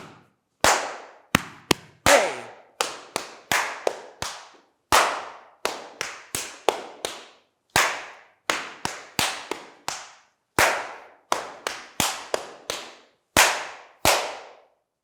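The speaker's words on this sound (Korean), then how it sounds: "오늘 배울 리듬은 가슴, 박수, 허벅지 세 가지 소리로 리듬을 만들어 볼 건데요" Body percussion rhythm played with chest slaps, hand claps and thigh pats, sharp, dry, close hits falling in repeating grouped patterns with short pauses between phrases, each strike decaying quickly with no voices over it.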